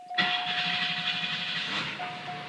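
A 1992 Buick LeSabre, just fitted with a new valve cover gasket, cranks and fires up, then settles into a steady idle with a thin whine running through it.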